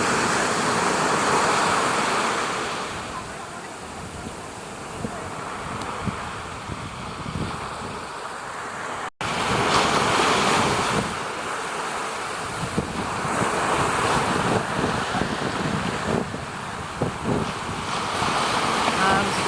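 Ocean waves surging and washing in on a rocky shore in western Salalah, Oman, with a constant roar, wind buffeting the microphone and one brief dropout in the middle.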